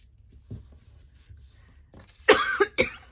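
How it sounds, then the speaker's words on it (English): Two or three harsh coughs close by near the end, following quiet rustling and faint tapping. "Excuse me for coughing."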